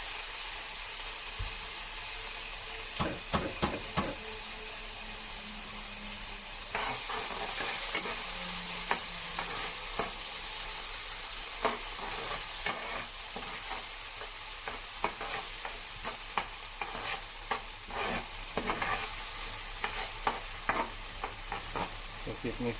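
Sliced onion, ginger and garlic fry in a pan with salt, a constant sizzle running underneath as a utensil scrapes and clatters against the metal in quick, irregular strokes throughout.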